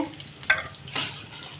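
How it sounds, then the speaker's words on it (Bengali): Eggplant frying in a pan gives a soft, close sizzle, broken by a couple of brief stirring scrapes. "বেগুন ভাজা হচ্ছে এদিকে"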